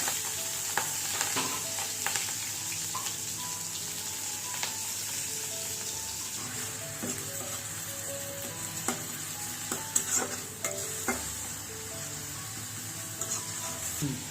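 Chopped onion and green chillies sizzle steadily in a hot pan for chicken kacchi biryani, with scattered clicks and scrapes of stirring over a continuous frying hiss.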